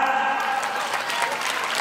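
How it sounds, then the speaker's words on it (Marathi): Crowd at a school event clapping for the school's own teachers, a loud, continuous burst of applause with scattered sharper claps toward the end. "या शाळेतल्या मास्तरांसाठी टाळ्या."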